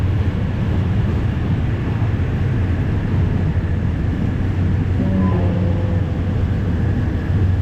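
Steady interior rumble of a passenger train riding from southern Thailand toward Padang Besar at the Malaysian border, a constant loud low drone with no talk.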